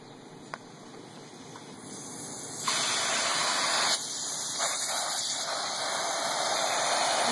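Water spraying from a hose nozzle pushed under the plastic of a potting soil bag for tomatoes, a soft hiss that jumps to a louder, steady gushing spray and continues.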